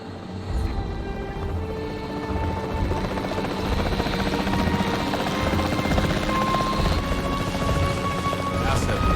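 Capture team helicopter in the video game Jurassic World Evolution 3, a steady, loud rotor drone that runs the whole time with a faint background bed.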